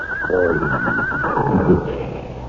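A racehorse neighs in a radio drama sound effect, a loud, close, wavering whinny lasting over a second, with faint background sound afterward.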